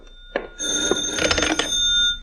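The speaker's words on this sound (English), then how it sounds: "And then the phone rang." A telephone bell rings in a radio drama, one sustained metallic ringing burst after a short click, close and clear with no talk over it.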